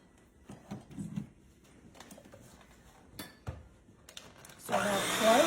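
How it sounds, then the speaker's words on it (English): An electric kitchen mixer starts up near the end, mixing orange juice bundt cake batter with a loud steady whir, after a stretch of quieter kitchen handling clatter and knocks. "so now we're gonna get out our mixer. You know, the noisy mixer."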